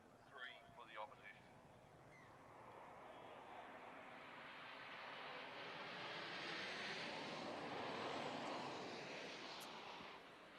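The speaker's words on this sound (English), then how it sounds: "Just taking a quick pause as the 2:30 flight from Kuala Lumpur lands behind us." A passenger airliner on a flight from Kuala Lumpur lands near a Gold Coast rugby league ground, its broad engine roar swelling gradually and staying distant, with brief crowd sounds at the start.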